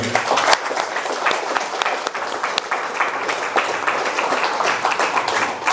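A crowd claps steadily throughout at a community meetup for a debt-relief group, thanking a speaker; dense, even applause fills the whole stretch with no pauses.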